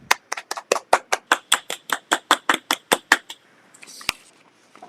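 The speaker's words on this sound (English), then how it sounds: "And a big round of applause." Clapping at a live Iowa show for a youth trap shooting team, a small group of hands beating in quick, even unison about fifteen times, then stopping, with a faint murmur and one last clap after.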